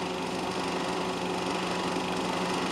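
Formula Junior and Formula 3 race cars, including a Lotus 18, make a continuous, dense engine roar at a racetrack, loud and unbroken for the whole stretch with no pauses.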